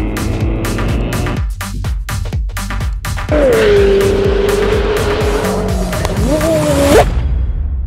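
McLaren 750S supercar on the Silverstone race circuit, loud and close: rapid upshift bursts, then a sustained high engine wail with tyre squeal, ending abruptly.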